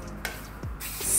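A short hiss of cooking spray mists green beans laid out before cooking, a brief close burst after soft rubbing and handling noises.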